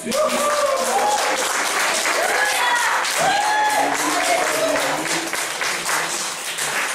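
Church congregation applauding together during an evening worship service, a steady wash of clapping from the whole crowd, with voices singing and calling out over it throughout.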